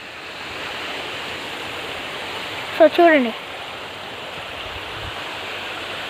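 Water from a waterfall rushes steadily into a check dam, a broad constant roar like a flowing stream, with a brief spoken phrase partway through.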